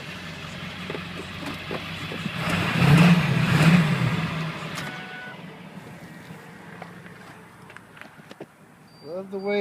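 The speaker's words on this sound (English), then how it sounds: "Love the way a diesel sounds." A 1999 Ford F250 HD turbo diesel engine revving, swelling to a loud peak and then settling back to an idle, with some footsteps and handling noises nearby.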